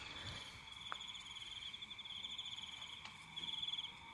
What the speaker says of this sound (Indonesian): suara jangkrik kan